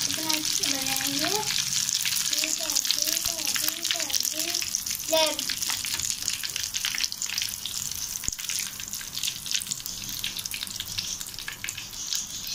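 Egg balls fry in hot oil with a constant, close crackling sizzle, and a voice talks over it briefly early on.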